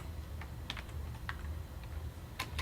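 Sparse keystrokes tap on a computer keyboard while HTML link code is entered, a handful of soft, separate clicks over a low steady hum, close by with no voices.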